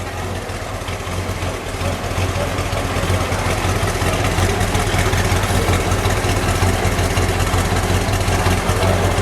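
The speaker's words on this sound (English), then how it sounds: "Let me listen to it idle for just a second." A 1966 Plymouth Satellite's factory 426 Hemi V8 idles with a deep, steady rumble close by, continuous and loud with a slightly lumpy throb and no talking.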